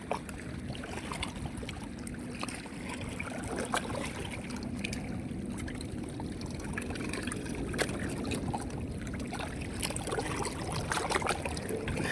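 A fishing popper lure is retrieved through river water at dusk, making faint, repeated splashing and gurgling bursts over a steady background of flowing water.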